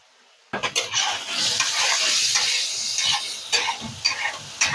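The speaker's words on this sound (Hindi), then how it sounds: "कटा हुआ कुछ अदरक यहाँ पे डाल दें।" Chopped ginger hits hot oil in a Lahori street-style chicken karahi with whole dried red chilies. A sudden loud sizzle rises and holds steady, with scraping stirring clicks near the wok and no voices.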